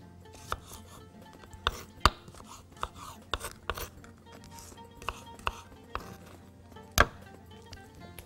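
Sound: cucumber being chopped with a knife

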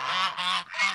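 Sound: ducks honking outdoors in snow

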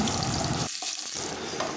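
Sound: parboiled potatoes frying in hot oil

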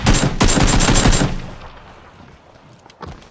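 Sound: gunfire in the video game PUBG

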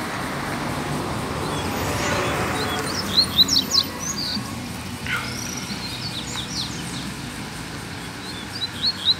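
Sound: coleiro (double-collared seedeater) bird calling

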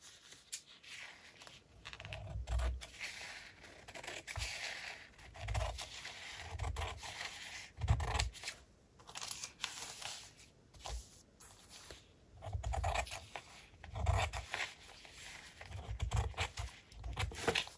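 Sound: cutting a paper napkin to size

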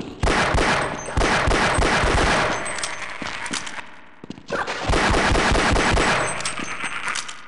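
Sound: explosion in the video game Half-Life: Decay

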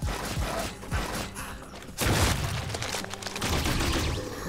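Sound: cannonball shot fired in video game Project Warlock 2

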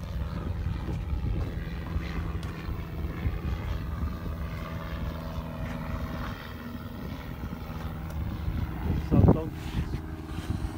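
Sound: aeroplane flying overhead

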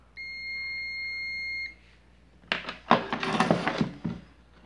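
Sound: digital multimeter continuity beep

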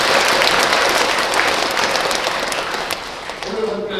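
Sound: applause

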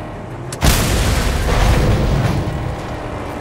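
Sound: car exploding in video game

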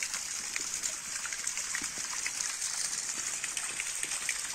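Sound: Samrala waterfall, water falling into a small pool

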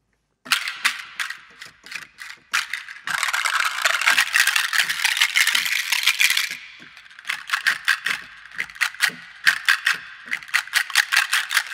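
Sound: various shakers from the Dark Era sample library

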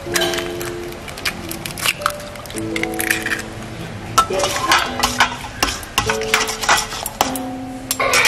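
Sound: stirring sweet and sour ribs in a pan

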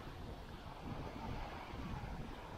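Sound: wind on a beach during winter surf fishing

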